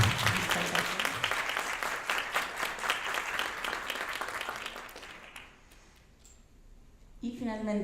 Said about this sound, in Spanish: les pido un aplauso para los chiquillos que están acá con nosotros